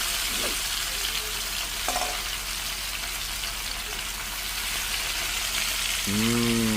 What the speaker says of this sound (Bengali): এভাবে মাছ ভাজতে হয়?